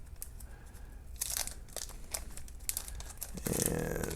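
A 1982 Donruss baseball card wax pack is torn open by hand, with crinkling, rustling wrapper noise and sharper tearing bursts building toward the end, close and moderately quiet.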